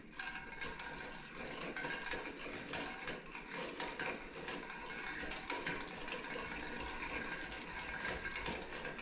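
A THKFISH line spooler being cranked to wind fishing line onto a reel gives off a steady, busy ratcheting and gear whir. It runs continuously at moderate level with no voices.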